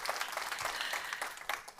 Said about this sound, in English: Give Jennifer a huge round of applause